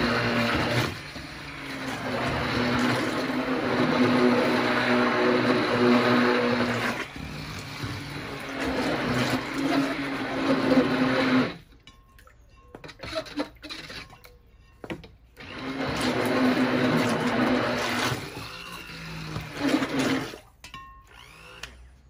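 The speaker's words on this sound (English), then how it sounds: "Couldn't find a whisk. So use a little wand blender." Small handheld wand blender whirring steadily while mixing ceramic glaze in a clay studio, running loud in two long bursts separated by a brief pause with quieter clatter.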